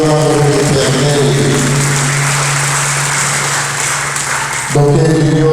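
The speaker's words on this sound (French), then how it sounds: "Acclamons très fort pour la gloire de l'Éternel." A church congregation at a funeral ceremony cheers and applauds loudly in a sustained roar, with music playing before and after the burst.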